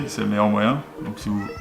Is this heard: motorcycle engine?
no